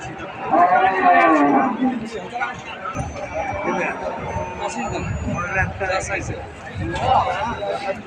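A Sahiwal cow and her one-month-old calf low on a farm, a few drawn-out moos rising under steady chatter from nearby people, with scattered hoof and farmyard clatter.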